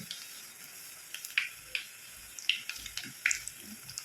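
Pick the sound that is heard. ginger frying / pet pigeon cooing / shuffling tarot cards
ginger frying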